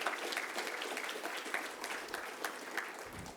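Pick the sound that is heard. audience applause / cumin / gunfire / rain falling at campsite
audience applause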